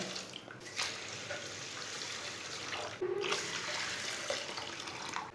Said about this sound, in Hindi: दाल डाल लेंगे, 3 गिलास पानी डाल लेंगे।